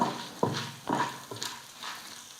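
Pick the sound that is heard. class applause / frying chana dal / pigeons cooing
frying chana dal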